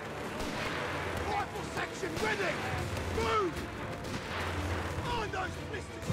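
Artillery shells hitting a bridge in Company of Heroes 3, with repeated booming impacts and rumbling blasts over battlefield noise. Voices and chatter run underneath the barrage.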